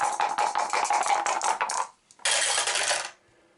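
Two dice rolled during a tabletop Arkham Horror board game, giving a rapid rattling clatter as they tumble and bounce, a brief gap, then a second burst of rattling that stops abruptly, close and crisp.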